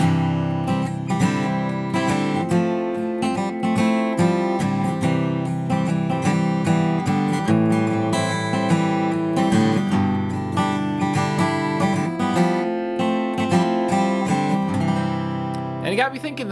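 An electric guitar fitted with a capo plays a steady, repeating riff of bright chords and single notes, clear and close with no voices over it.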